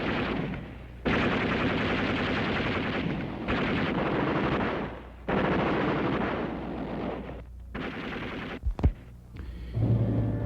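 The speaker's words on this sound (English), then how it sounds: "then another fired, then 8 machine guns combined mass production with mass murder" Machine gun fire from several guns firing together in a World War II massacre at the Malmedy crossroads: loud, sustained bursts in long runs broken by short pauses and a few single sharp shots.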